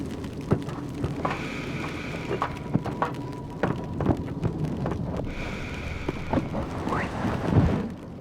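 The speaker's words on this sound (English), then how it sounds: "leaving only the sound of hollow footsteps on the aircraft's cold metal and rain landing on the hard surface of your helmet" Rain pattering on the hard surface of a soldier's helmet in the Battlefield 3 game, a steady hissing downpour with rumbling wind and a few sharp taps and thuds, heard alone without voices.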